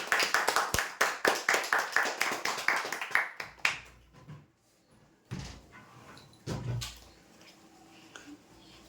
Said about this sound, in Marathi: जोरदार टाळ्या होऊ यासाठी